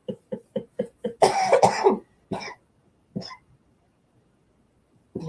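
A run of five quick, evenly spaced coughs, then a harsher burst of coughing, followed by a couple of separate single coughs after a pause.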